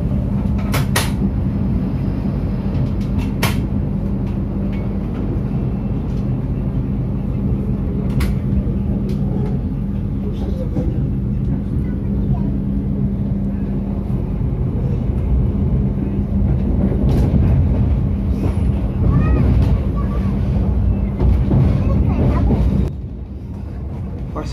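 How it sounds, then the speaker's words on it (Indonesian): The Argo Bromo Anggrek passenger train departs Gambir station in Jakarta with a loud, steady low rumble and rolling clatter, with a few sharp knocks, before the noise drops off near the end; speech is faint under it. "kereta api Argo Bromo Anggrek berangkat dari stasiun Gambir di Jakarta menuju stasiun Pasar Turi di Surabaya"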